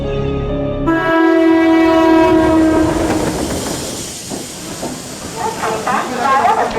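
A train at Borivali railway station, its horn blaring with sustained harmonic tones at the start, then rolling wagons and a rattling clickety-clack with hiss, loud and close, with voices faintly mixed in.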